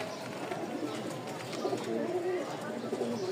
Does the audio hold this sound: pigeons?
yes